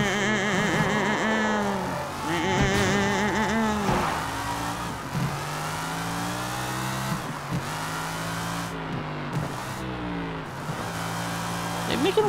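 A car engine with a blown tire drones steadily with shifting pitch as it drives in the video game Sleeping Dogs, running continuously with a person talking over it.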